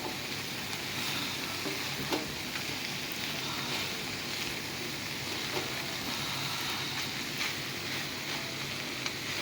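Sautéed bitter gourd with eggs sizzles steadily in a pan while being stirred, a continuous close frying hiss with faint scraping, no voices.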